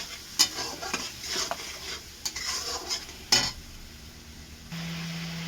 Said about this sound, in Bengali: নুন হলুদ কাশ্মীরি লঙ্কা দিয়ে দিলাম, দিয়ে এটা একটুখানি কষতে হবে।